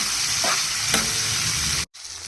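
Onions frying in a pan, a continuous loud hiss and sizzle with a couple of faint clinks of stirring, close up, cutting out briefly near the end.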